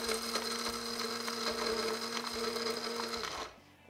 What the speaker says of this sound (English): So I'm just gonna use this spice grinder and do half a batch at a time.